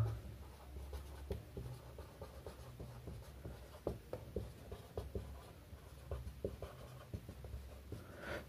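Pen scratching numbers onto paper at close range, with a steady run of short strokes and taps across the whole stretch, quiet and without talk.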